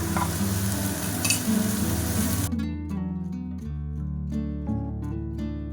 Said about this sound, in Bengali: দিয়ে এটাকে ভালো করে ভেজে নেব।